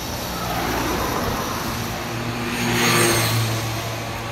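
A car engine hums and rises slightly as the vehicle pulls away, steady road noise with a brief swell before settling.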